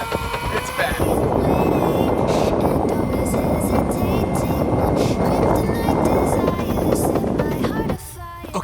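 An Evolve Carbon GT electric skateboard climbs a hill under power, its motor whine buried in heavy rushing wind noise across the microphone, loud and continuous until it drops off near the end.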